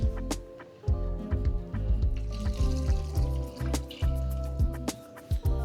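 Water is poured into a pot for pot roast, giving a continuous splashing, dripping trickle with irregular gurgling bursts that runs steadily throughout at moderate loudness, no voice present.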